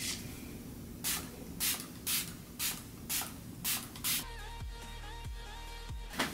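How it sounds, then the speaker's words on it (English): Gerard Cosmetics Slay All Day Setting Spray goes off in about seven quick, close hissing spritzes in a row, followed by soft background music with no voice. "I'm just gonna finish off this look with a Gerard Cosmetics Slay All Day Setting Spray."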